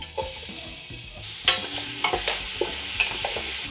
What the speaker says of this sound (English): So what you do is you saute the garlic and the tomatoes.